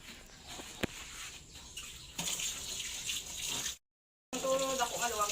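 Food being washed under a running kitchen tap while cooking squid adobo and pork dishes, a steady broadband gush of water with clattering handling, broken by a brief silence before the flow resumes, with a voice talking briefly.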